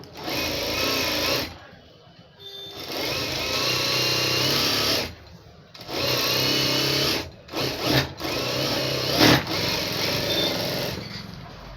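A sewing machine stitches the folded lining of a plain blouse in several loud, rapid whirring bursts, separated by short pauses, close up.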